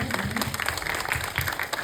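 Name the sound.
audience applause at film festival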